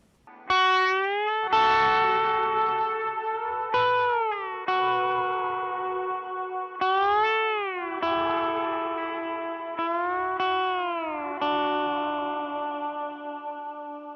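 Sliding electric guitar notes glide and bend through a lush ambient reverb with pre-delay, each phrase swelling and sustaining into long, washy tails, with no one talking.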